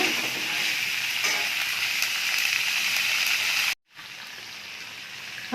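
Chickpeas stir-fried in a pan for an Indian dish, a bright steady sizzle with stirring, close and continuous, cut by a brief silent gap before the frying resumes.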